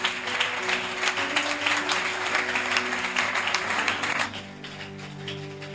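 A church congregation applauds and cheers loudly together, dense sustained clapping with voices rising, then fading slightly toward the end as a low musical drone continues underneath.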